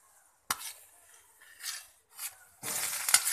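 Chopped onion dropped into hot oil with chana dal and urad dal, a clatter followed by soft stirring scrapes and then a steady sizzle that swells near the end, with no one speaking.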